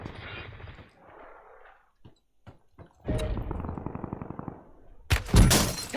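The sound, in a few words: gunfire in video game Call of Duty Warzone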